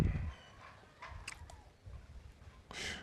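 A few short, low clucks from a fighting rooster with three legs, against a quiet outdoor background, with a brief louder squawk near the end.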